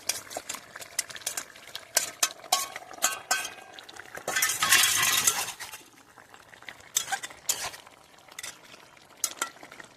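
Fried rohu fish goes into a simmering thin fish curry, with clinks of a utensil against the pot, a short burst of bubbling sizzle, then more scattered taps and stirring, close up with no talk.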